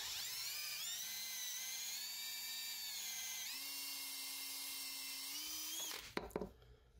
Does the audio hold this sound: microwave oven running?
no